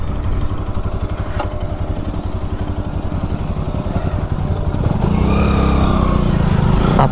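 A motorcycle engine rumbles steadily at close range while riding over a bridge in Karnataka, growing slightly louder and rougher toward the end.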